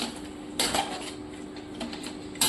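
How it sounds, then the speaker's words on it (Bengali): Chicken stirred in a pan over a low flame, cooked without oil, gives a couple of sharp metallic clinks and scrapes of a utensil against the pan over a low steady background hiss. "চিকেনটাকে অ্যাড করে লো ফ্লেমে এটাকে আমি কিছুক্ষণ কষিয়ে নেব"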